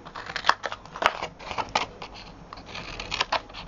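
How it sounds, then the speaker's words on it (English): Scissors snip through paper while a flip-top gift box is cut out along marked lines, giving a string of close, crisp cuts in an uneven rhythm with no talking. "I'm going to cut along the lines"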